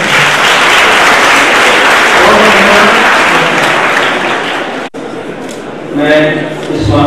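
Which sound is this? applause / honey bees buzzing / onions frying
applause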